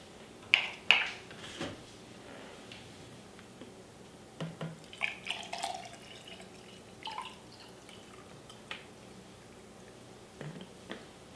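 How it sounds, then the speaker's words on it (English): Vinegar poured into a container holding an egg, heard as sparse drips and small splashes with soft clunks of handling, faint and close, with no talking. "And adding the vinegar in."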